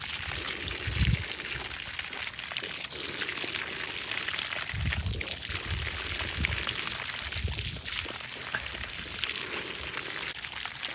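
Water poured for a dog, arriving as soft trickling and splashing bursts that come and go at a moderate level, with no speech over it.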